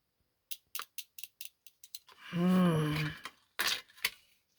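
Scissors snipping a gingerbread picture out of a cardboard cookie box: a quick run of sharp, close cuts, then a woman's drawn-out vocal sound, then a few more snips.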